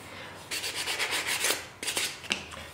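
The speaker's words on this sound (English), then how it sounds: "Now I'm just sanding it until it feels good in the hand." Sandpaper worked by hand over a wooden Dexter knife handle, producing quick rasping strokes in two short bursts, close and fairly soft, with no talking.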